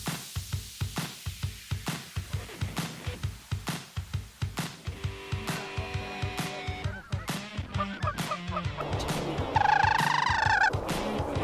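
A flock of snow geese in spring honks in a rapid, repeated rhythm, many calls overlapping at close range and building louder toward the end.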